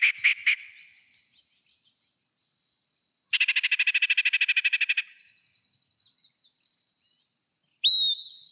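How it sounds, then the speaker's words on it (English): A yellow-breasted chat sings alone, mixing a few sharp opening notes, a loud rapid chattering run, soft scattered whistles and a final clear slurred whistle, all fairly close and bright. "It's chatty, hence the name. And it's kind of a mix of different coos, chatters, whistles, and wonks,"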